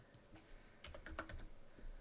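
Soft, close keystrokes on a computer keyboard, a few scattered taps followed by a quicker cluster of key presses while a number is typed in, quiet and without talk.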